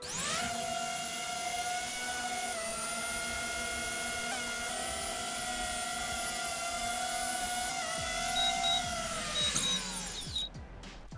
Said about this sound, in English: I've got the new DJI AVATA 2 drone here. Not flown it yet.